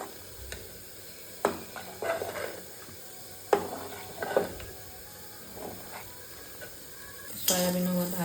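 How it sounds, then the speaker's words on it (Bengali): Soybean chunks fry in hot oil in a pan for khichuri, sizzling softly under repeated scrapes and clinks of a stirring utensil. A louder burst of sizzling comes near the end; nobody speaks. "সয়াবিনগুলো আমি লাল লাল করে ভেজে নেব"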